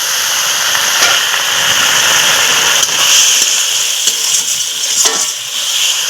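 Spice masala for an egg curry sizzles loudly in a pan as it is sautéed and stirred, a steady hiss broken by a few scraping stirs and clatters.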